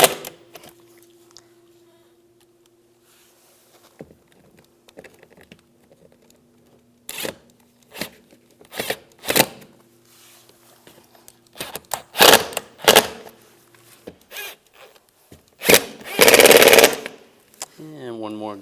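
Toyota Corolla bumper cover fasteners on a 2014-2019 model being run down with a power tool, heard as several short, loud, separate bursts of buzzing rattle spread across the clip, with quiet gaps between them.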